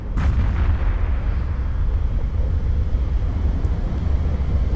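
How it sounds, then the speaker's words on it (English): A spaceship blowing up in the space combat game EVE Echoes, a deep sustained rumbling roar that fills the whole moment at steady loudness, with no voices. "Beautiful explosion."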